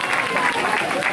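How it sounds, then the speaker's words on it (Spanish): Spectators applaud runners crossing the finish line at a running race in Pedrajas, a steady, dense wash of clapping from a crowd with a voice faintly underneath. "Ese aplauso fuerte para Diego Esteban."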